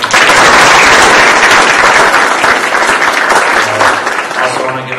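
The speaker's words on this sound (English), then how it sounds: "I think we should give them a round of applause for that." Loud, sustained audience applause at a public forum on democracy and human rights in Egypt, a dense steady roar of clapping that fills the whole stretch before tapering slightly at the end.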